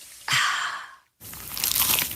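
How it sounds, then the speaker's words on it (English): A bite into a crunchy, cheesy pizza slice, two loud crisp crunches split by a short silence, close up and with no talking. "Is that the sound of an ooey gooey cheesy crunchy slice of P-I-Z-Z-A?"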